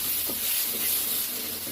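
Ground spice paste frying in hot oil with cumin and bay leaf in a pan, giving a steady, close, continuous sizzling hiss with no talk.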